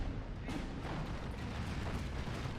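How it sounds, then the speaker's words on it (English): Aircraft strafing runs hit targets in the Steel Division 2 wartime strategy game, a dense continuous rumble of gunfire and explosions with a sharper burst near the start, loud and steady throughout with no talk. "Get the strafing runs in."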